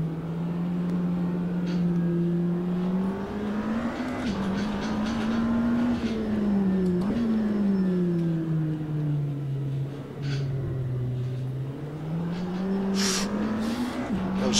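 A hypercar engine in the Automobilista 2 racing game drones and shifts pitch as the tires spin and squeal, with brief clicks and bursts scattered through the steady roar.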